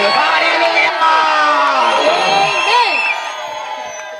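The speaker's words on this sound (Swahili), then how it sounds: "Hebu nisikie vigelegele na mirusi kwa Yesu Kristo aliye hai." A church congregation at a mission gathering erupts in loud, sustained ululation, whoops and cheering, many voices overlapping close by before easing off slightly near the end.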